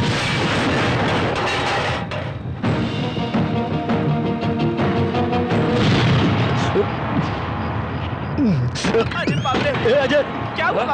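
A bomb explodes at a police station in a Hindi action film: loud booming blasts and crackling bursts, with shouting voices over the din and a lingering rumble throughout.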